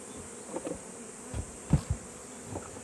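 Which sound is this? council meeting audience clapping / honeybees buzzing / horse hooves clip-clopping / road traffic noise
honeybees buzzing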